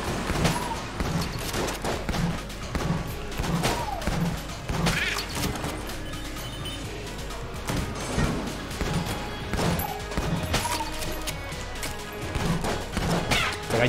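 Rapid bursts of video game gunfire from the dungeon shooter Enter the Gungeon, a steady volley of punchy shots and crashing impacts layered over game music, continuous and fairly loud throughout.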